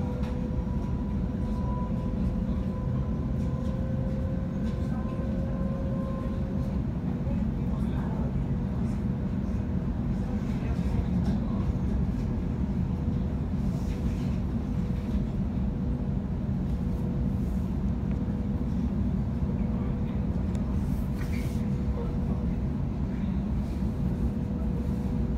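A Sydney train on the Airport Link runs steadily along the tracks, a constant low rumble with faint tonal hums and occasional clicks, heard from inside, no clear talking.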